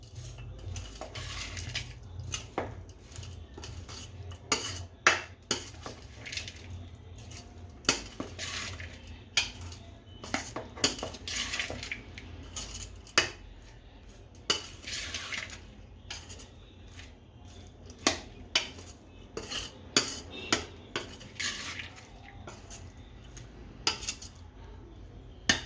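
Metal spoon repeatedly clinking and scraping against a bowl while corn bhel made from fresh sweet corn with sev and coriander is mixed, an uneven run of close, sharp taps and rubs with no talking.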